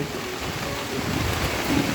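Heavy rain falls in a village, a steady rush of drops with a deep rumbling undertone that swells slightly toward the end, heard up close with no talking.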